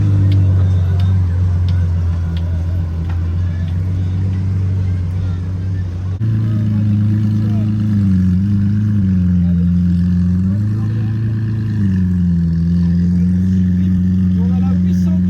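A Porsche 992 GT3 passes on a street in Cannes, its loud low engine drone rising and falling with revs close by, steady throughout with a shift in pitch midway, no talking heard.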